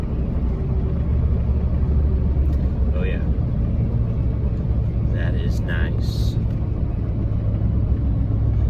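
An LBZ Duramax pickup towing a 15,000-pound trailer of gravel, its exhaust brake giving a loud, steady low rumble from inside the cab, with someone speaking over it.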